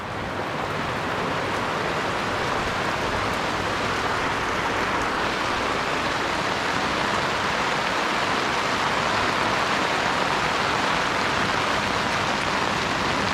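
A light rain shower patters steadily on and around a Casita RV, a soft continuous hiss with no breaks, heard alone at moderate level.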